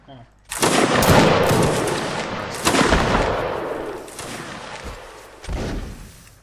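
Musket volley fire in Mount & Blade battle: several loud, overlapping rifle shots in ragged bursts echoing across the field, with voices shouting in the background.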